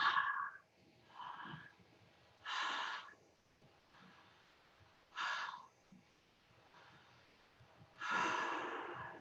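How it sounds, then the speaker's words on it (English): Open-mouthed yoga breath work with a slight constriction at the back of the throat, producing loud, breathy rushes on both inhale and exhale, about five separate breaths spaced by quiet pauses, close and alone. "with your mouth open and a little opening at the back of the throat, start to make a sound on the inhale and the exhale"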